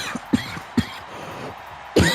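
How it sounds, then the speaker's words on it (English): Several sharp coughs come in quick bursts, two close together early, another soon after, then a louder harsher one at the end, near and dry. "Apologies again for the coughing."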